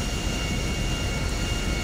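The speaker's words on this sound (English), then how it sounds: "Make an emergency landing at Mackenzie Airfield for engine troubles." A single-engine civilian airplane with engine trouble making an emergency landing at Mackenzie Airfield in GTA 5, heard as a continuous, close engine drone with no talking.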